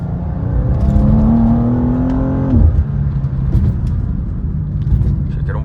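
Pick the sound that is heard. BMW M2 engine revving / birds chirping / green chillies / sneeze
BMW M2 engine revving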